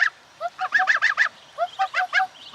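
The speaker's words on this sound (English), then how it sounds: "So Tiana's child is a Czech goose." A Czech goose on a summer farm honks in two quick bursts of repeated nasal calls, close and loud with short pauses between the runs.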